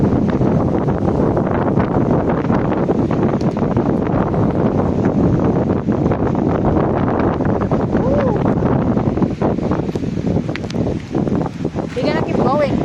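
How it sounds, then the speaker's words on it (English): Strong wind roars across the microphone on a mountain road in the Atherton Tablelands, a constant loud buffeting rumble that lasts throughout. "Oh my God, it's so windy."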